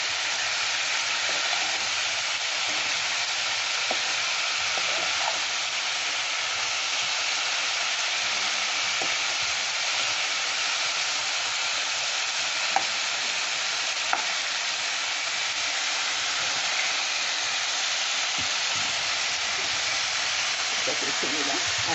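Chicken korma sizzles steadily in a hot pan as it is sautéed, a continuous loud frying hiss with faint stirring clicks.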